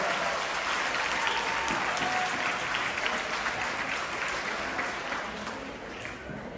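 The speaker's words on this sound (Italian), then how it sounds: "Un grosso applauso per loro." An audience applauds schoolchildren from an Istituto Comprensivo on stage at a legality day event in Isola Capo Rizzuto, a sustained crowd of clapping hands, fairly distant, that slowly fades toward the end.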